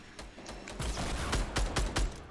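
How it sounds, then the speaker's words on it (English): Rapid bursts of close, sharp gunfire in a video game crack out about a dozen times in quick succession, loud and alone. "He's shooting me."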